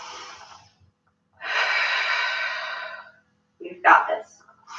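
Deep yoga breaths come close and clear. A long inhale is followed by a steady exhale, then a shorter, sharper breath, with quiet pauses between them.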